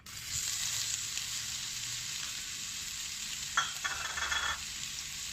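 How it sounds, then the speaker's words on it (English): Onions fry in hot oil in a pan, giving a low, steady, continuous sizzle and hiss, with a brief burst of louder crackling near the end; no voices. "In a pan, heat up some oil and add your onions."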